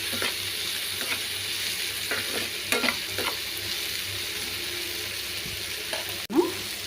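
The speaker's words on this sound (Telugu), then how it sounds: "ఇవన్నీ వేసుకుని బాగా కలుపుకున్నాం" Vegetable soup ingredients with salt sizzle in a hot pot while a spoon stirs them in repeated scraping strokes. A sharp clunk against the pot comes near the end.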